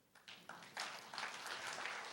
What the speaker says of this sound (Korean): 박수 한번 쳐보시죠.